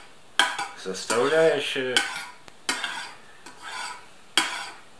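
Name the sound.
stirring honey and jam mixture in a container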